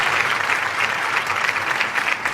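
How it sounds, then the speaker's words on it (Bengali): A classroom audience claps for a Class 5 student, a dense, steady burst of applause filling the short moment, fairly close and even throughout. "হার্দিকের জন্য একটু জোরে হাততালি।"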